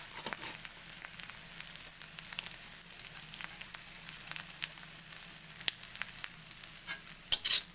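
Egg masala noodles frying in a pan as they are stirred, a soft steady sizzle with light scraping and occasional clicks of the utensil, quiet and close.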